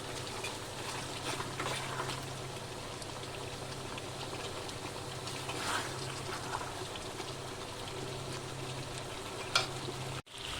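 Marinated meat frying in its own released oil during slow browning, a low continuous sizzle and bubbling with faint stirring, quiet and unaccompanied by speech.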